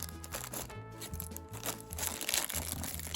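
Toy packaging being torn open during an unboxing, with crinkly cardboard and plastic rips and crunches in short bursts, quiet and close, alongside faint background music.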